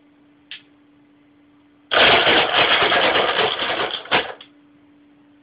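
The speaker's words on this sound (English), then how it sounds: "I'll just switch it on and show you what happens" A Fluval aquarium filter motor runs without its spindle, switching on with a loud rattling buzz after a faint hum, clattering for about two seconds before cutting off abruptly with a final knock.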